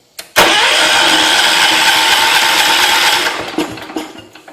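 A John Deere 210 lawn tractor engine with a fuel mixture problem cranks and catches loudly, running rough for about three seconds before sputtering and dying away, heard up close with no talking.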